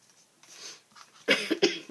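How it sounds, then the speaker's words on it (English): A short burst of harsh, close coughs, three quick hacks following a soft breath. "Oh, I can't get rid of this cough."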